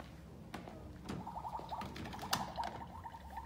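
Faint, rapid electronic bubbling pulses patter on for a couple of seconds, a quiet sound effect from a Step2 toy stove with small clicks around it.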